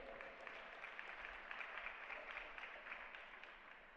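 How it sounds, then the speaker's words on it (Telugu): A church congregation claps in praise during a sermon on resurrection power. The dense, steady applause sounds faint and distant, with no voices over it. "చప్పట్లు కొట్టి దేవుని స్తుతించండి."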